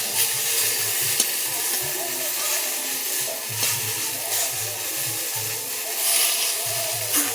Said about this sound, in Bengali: একটু নাড়িয়ে নিলাম। বেগুনগুলো একটু লৌটে দিতে হবে।